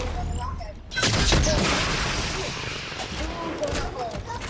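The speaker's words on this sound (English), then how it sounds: "Oh, there's definitely shooting over there." Gunfire in a Fortnite match, a loud sustained burst of shots that breaks in after a quiet moment and rolls on as ongoing fusillade fading slightly through the clip.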